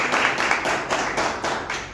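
A church congregation applauds in praise, steady rhythmic group clapping in repeated pulses, moderately loud and filling the room, with no voices over it.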